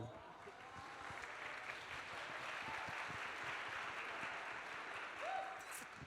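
An audience applauds steadily, a dense wash of clapping that holds at an even level throughout, sounding somewhat distant.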